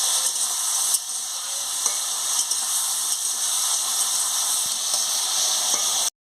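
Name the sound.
frying vegetables with turmeric in pan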